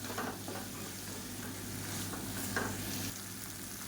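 Raw banana masala is stirred in a hot pan, a soft continuous sizzle with light scraping strokes of the spoon, close and fairly quiet over four seconds.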